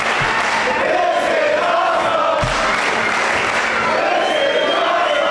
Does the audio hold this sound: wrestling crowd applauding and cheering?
yes